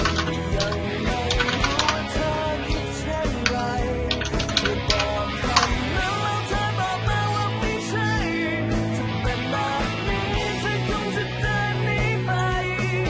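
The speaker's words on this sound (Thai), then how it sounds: "เดี๋ยวเราพิมพ์" Fast, irregular typing on a computer keyboard, close and clear, with a busy run of key clicks and taps continuing steadily over a low background hum, no talking.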